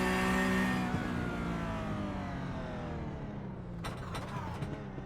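A Porsche 911 GT3R racing car in the iRacing simulator at Mid-Ohio runs flat out in first gear, its engine a steady high-pitched howl that climbs in pitch through a long pull, with a few quick gearshift blips near the end.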